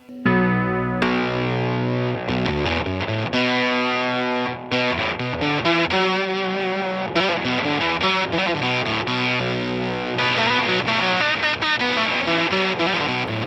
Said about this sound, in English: This is an octave fuzz.